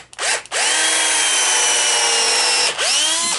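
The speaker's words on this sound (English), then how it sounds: "just center it, drill a hole in the middle of that dowel" A power drill bores a pilot hole into the center of a wooden dowel during chair repair, with a short start-stop burst followed by one sustained high whine that winds down near the end. The drilling is close and loud.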